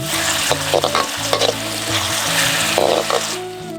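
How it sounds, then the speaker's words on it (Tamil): Chopped onions and green chillies sizzle steadily in hot oil while being stirred, with scraping and clatter from the utensil over a busy, crackling frying sound. "இருநூறு கிராம் நறுக்கின வெங்காயம் கூடவே ரெண்டு பச்சை மிளகாய் சேர்த்து வெங்காயத்தை நல்லா வதக்கிடுவோம்"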